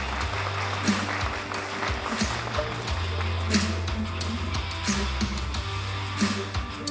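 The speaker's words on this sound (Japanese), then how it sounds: "どうぞ拍手をお送りください。" Audience applause at the close of a motorsport presentation event for the Super Formula NEXT50 project, held in a hall at Lexus Meets Hibiya, with steady clapping throughout under background music and some talk.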